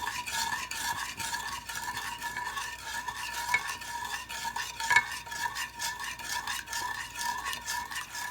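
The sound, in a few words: sugar water boiling to caramelize for Kerala plum cake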